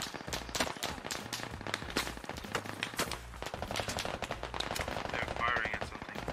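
Video game gunfire: rapid automatic bursts rattle continuously over a pounding game soundtrack, loud and close, with streamer chatter faintly underneath.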